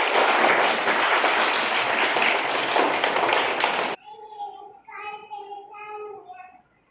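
Children in a classroom clap together, a dense burst of applause lasting about four seconds that stops abruptly, followed by a voice speaking.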